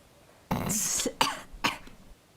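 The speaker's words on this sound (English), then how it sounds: "Jeez, that cough." A person coughs close to the microphone: one long, harsh, throaty fit followed by two shorter coughs, loud and alone with no talking.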